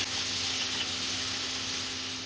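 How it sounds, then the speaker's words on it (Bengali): Cauliflower and flat beans frying together in hot oil, a steady, loud, dense sizzle with a constant bright hiss that holds unbroken throughout and has no talk over it. "ফুলকপিটা একটু ভাজা হয়ে গেছে, এবার দিয়ে দিচ্ছি শিম। একই সঙ্গে ভেজে নেব।"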